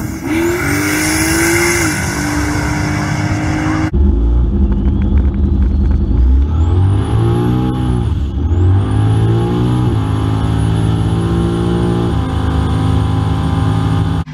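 A turbocharged drag car with a stock 5.3 engine, a GT45 turbo and a BTR Stage 2 turbo cam roars through a launch, its engine note rising and dropping across gear changes with a whistling turbo whine, loud and close.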